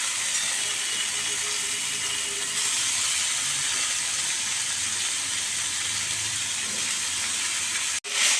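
Banana stem dropped into frying spice masala in a pan, giving a steady, close, hissing sizzle that runs throughout with no talk, ending in a short clatter.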